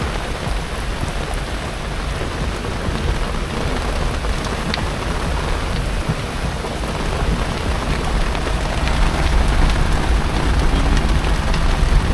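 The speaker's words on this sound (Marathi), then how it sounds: "खूप जोरात पाऊस आला होता." Heavy rain pours steadily and loudly at a roadside stop on a motorcycle journey from Mumbai to Uttarakhand, a dense unbroken hiss that swells slightly toward the end, with no clear thunderclap standing out and no talk.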